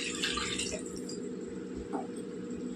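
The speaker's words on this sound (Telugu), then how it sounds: "ఈ టైంలో మనం ఇందులోకి నీళ్ళు వేసేసుకోవాలి." Water poured into a pan of softened capsicum on the stove: a steady splashing pour with faint drips, close and moderately loud, no speech.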